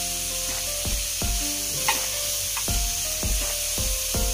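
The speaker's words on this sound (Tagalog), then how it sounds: "habang ginigisa po natin, ilagyan na po natin yung ating mga pampalasa." Pork sautéing in a pan for misua soup: a steady close sizzle with periodic scraping strokes of a utensil and soft knocks roughly every half second, with no talk.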